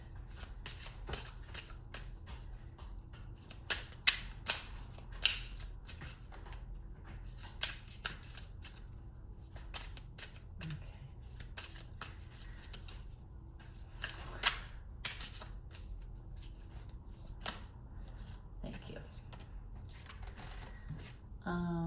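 Tarot cards are shuffled by hand before a single card is drawn, producing a long run of soft riffling and flicking with sharper snaps now and then, quiet and close, and light speech here and there.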